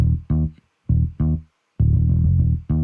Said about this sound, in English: I found this P bass.